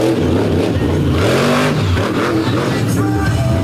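Trucks race through slop on a muddy dirt track, engines revving and rising and falling in pitch as they pass close by and loud, one after another.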